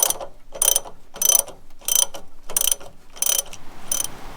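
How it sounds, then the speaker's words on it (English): Ratchet wrench clicking in seven quick, evenly spaced bursts while disconnecting the sway bar on a GU Patrol 4x4, close and crisp against a quiet garage background. "I am going to disconnect the sway bar."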